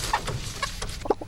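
A sentinel chicken kept for disease testing gives several short, close clucks over a soft background hum, the last cluck slightly louder.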